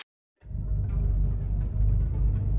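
Heavy rainstorm over a desert in an animated show, a dense low rushing downpour that starts suddenly after a brief silence and continues steadily.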